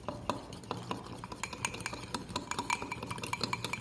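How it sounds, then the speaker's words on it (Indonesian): Stirring a yeast starter mixture of warm water for pukis batter, a spoon clinking repeatedly against the bowl in a quick, steady rhythm, close and fairly quiet with no talking. "Kemudian kita aduk semua bahan biang hingga larut."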